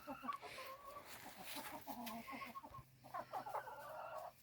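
Several chickens clucking in a cramped coop wedged against a roof, soft irregular bursts of clucks and chatter, fairly close but quiet.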